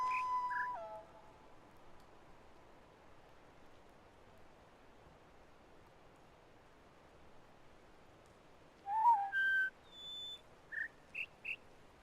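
Bird noise from the video game The Witness: a few short whistled chirps open the clip, then a quiet stretch of faint hiss, and a cluster of brighter chirps and trills returns near the end.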